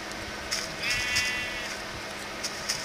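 Sheep in the Minecraft video game bleat a few times in short, close, synthetic-sounding calls over a faint steady background hum.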